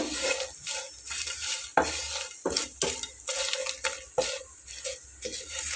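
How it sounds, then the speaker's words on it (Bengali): Close-up stirring of turmeric into a dried-fish mash in a pan: repeated scraping strokes of a utensil against metal with faint sizzling, uneven rhythm, no talking. "একটু নেড়ে চেড়ে হলুদটা"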